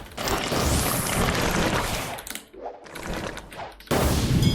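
Gunfire in the Roblox game Blox Fruits: a dense, loud burst of rapid shots fills the first two seconds, drops to scattered quieter hits, then a fresh loud burst returns near the end, with no talk.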